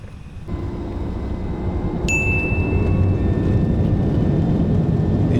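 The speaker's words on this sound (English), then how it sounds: "Enjoy this takeoff from runway 35 at Canberra." Inside the cabin of an Embraer E190 jet taking off from runway 35 at Canberra, a loud engine roar builds after a quieter start, with a high whine joining midway and staying steady.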